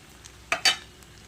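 Veg fried rice stirred with sugar in a pan, heard as two quick scraping strokes of a utensil close together against a faint sizzle, with a soft click afterward.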